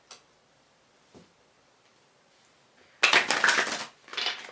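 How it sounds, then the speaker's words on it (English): Tarot cards shuffled during a pick-a-card reading: faint isolated flicks at first, then a loud, dense burst of riffling and snapping card noise that stops briefly and resumes, close by with no talk. "I'm going to give it a good old shuffle."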